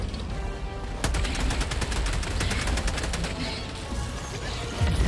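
Rapid gunfire from a video game with a straight-line shooting weapon, steady volleys of sharp shots packed close together over a dense background of combat noise, with no pauses for several seconds.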